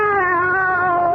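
A cat meows in one sustained, wavering call lasting about a second, loud, close and clear, with no voices around it.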